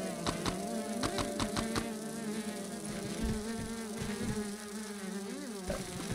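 Several gnats in the survival game Grounded hover nearby with a thick, wavering buzz, steady and close, with a few soft clicks early on.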